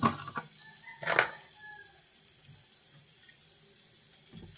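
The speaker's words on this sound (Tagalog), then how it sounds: "Kaya lagyan ko siya ng tubig." Water splashes and pours steadily into a pot of pork stuck to the bottom, for boiled pork soup, with a brief surge at the start and a faint sizzle underneath.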